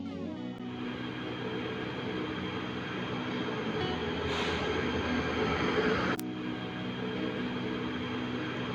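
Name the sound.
electric train moving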